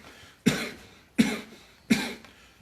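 Three forced coughs made deliberately during a pranayama breathing exercise, evenly spaced and close, each a sharp burst trailing off into breath.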